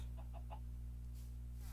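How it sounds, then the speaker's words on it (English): A Minecraft chicken gives a few quick, soft clucks in the game, followed by faint game ambience under a steady low hum. "The chicken. Hello, chicken."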